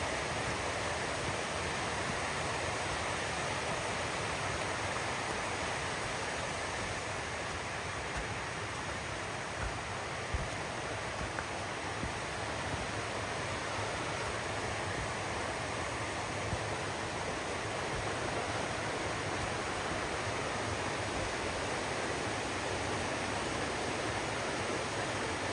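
A rushing mountain stream on the Appalachian Trail near Erwin, Tennessee, its water pouring in a loud, steady, broadband roar heard up close without interruption.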